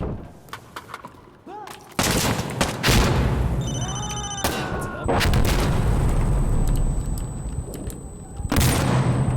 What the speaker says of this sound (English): They're firing mortars! Take cover!